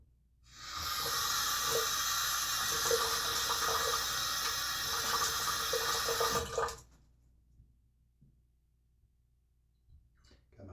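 Water runs steadily from a tap for about six seconds as someone wets their face before shaving. The hissing stream stops abruptly, leaving near silence with a few faint bumps.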